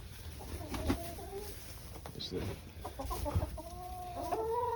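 Backyard chickens in a coop cluck and warble softly in short, scattered bursts, close by but fairly quiet, with faint outdoor ambience and no talking.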